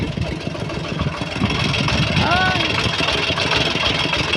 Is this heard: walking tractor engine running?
yes